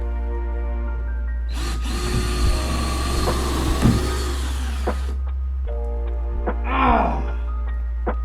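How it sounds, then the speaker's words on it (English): A power drill drives screws through two layers of wood ceiling boards into fiberglass insulation inside a shuttle bus conversion. One close, loud whirring burst lasts a few seconds, followed by a brief higher mechanical whine, with no talking. "what I'm doing here now is I'm firing 2 screws through the second layer, through the first layer into the fiberglass"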